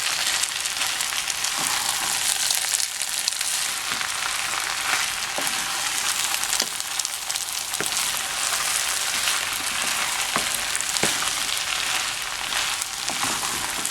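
Arroz Valenciana rice frying in a pan, a dense continuous sizzle with sharp scraping taps of a spoon stirring through it at irregular intervals, close and steady without any voices.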